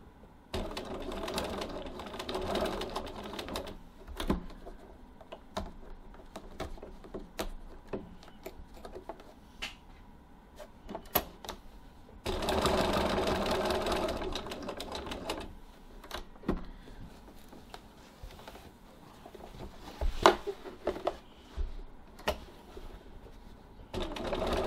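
A sewing machine runs in steady bursts as it stitches a diagonal line over earlier topstitching, its rapid needle ticking rising and falling through the stretch with short pauses between runs.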